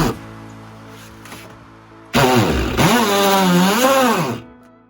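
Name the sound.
hammer drill in hammer mode driving nails with attachment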